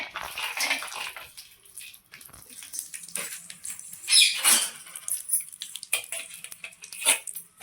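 Cashews fry in coconut oil in a pan, giving a soft crackling sizzle with intermittent spoon scrapes and clinks against the pan.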